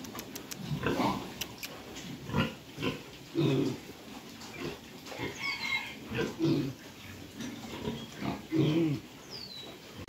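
Pigs on a farm give repeated short grunts and oinks in irregular bursts, close and moderately loud, with chickens clucking faintly in the background.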